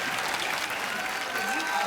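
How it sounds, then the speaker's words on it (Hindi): Studio audience applause on a comedy talk show, a dense, steady wash of clapping heard throughout the short moment, moderately loud. "तालियां अरिजीत के लिए"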